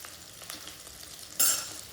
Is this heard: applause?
no